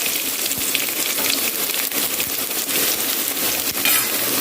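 Onions frying in hot coconut oil with a little ginger give a steady, bright sizzle that hisses loud and close the whole time, with small crackles and pops but no talking.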